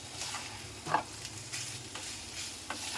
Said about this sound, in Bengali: চিকেনটা প্রায় আমাদের ভাজা হয়ে গিয়েছে।